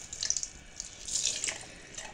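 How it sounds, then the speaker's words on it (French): Warm water running from a tap as sponges are wetted, a faint, soft trickle and splash with a few light bursts, quiet and close. "avec des éponges que vous allez bien mouiller d'abord"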